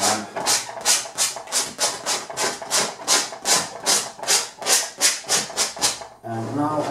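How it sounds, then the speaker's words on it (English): Oil paint glaze scraped off a painting of a brick, a steady run of rhythmic rasping strokes, close and fairly loud, ending with a short softer rub. "I kind of try to scrape away more here, so I get more of the light areas back"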